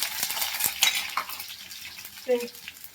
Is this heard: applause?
no